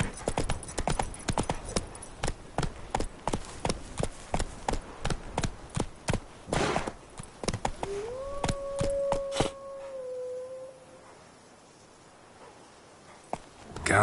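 Roach the horse gallops in The Witcher 3, a fast rhythmic run of loud hoof thuds that slows and stops near the end, with a short whinny-like tone as the hooves fade to quiet.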